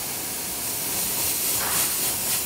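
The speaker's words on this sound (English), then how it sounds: "I've never used these through the airbrush" Airbrush spraying contrast paint onto a miniature model, a steady close hiss that holds without break and swells slightly midway.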